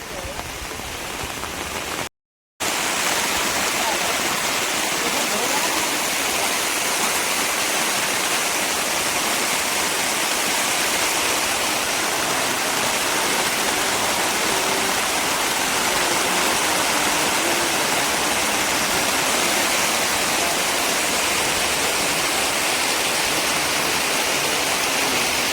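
Rushing water flows during heavy rain near Marchula by Jim Corbett, a constant broad roar like runoff or a swollen stream, with a brief cut-out near the start before the noise resumes unchanged.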